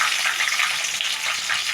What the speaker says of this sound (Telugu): కొంచెం నూనెలో ఫ్రై కావాలి